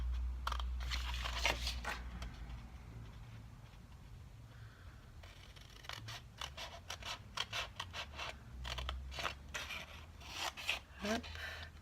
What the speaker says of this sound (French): Je vais passer mon ciseau, il est là.